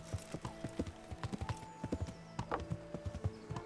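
Horse hooves clip-clop in the medieval video game Kingdom Come: Deliverance, a steady trotting rhythm of close, distinct hoofbeats over a soft ambient music bed.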